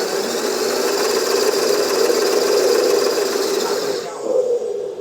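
A hydraulic 8x4 dumper truck model runs in its slow gear, giving a loud steady electric motor whine with a buzzing drivetrain hum that drops away abruptly near the end.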